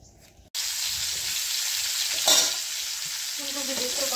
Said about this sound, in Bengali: ফুলকপি দিয়ে একটু ভাজা করতেছি